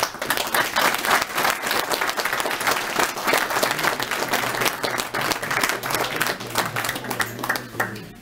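A sizable audience gives municipal workers a warm, sustained round of applause: loud, thick clapping that continues unbroken from start to finish, with faint crowd murmur beneath.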